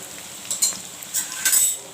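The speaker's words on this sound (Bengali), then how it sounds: "আলুগুলো ভেজে নিচ্ছি" Boiled potatoes frying in oil in a pan for chicken biryani, a soft steady sizzle broken by a few short scraping, clinking stirs of a utensil, close and fairly quiet.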